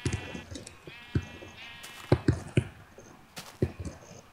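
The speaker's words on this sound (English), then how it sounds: "There's so much sheep near here" Sheep bleat in the Minecraft video game, several short bleats coming one after another at moderate volume over a faint background.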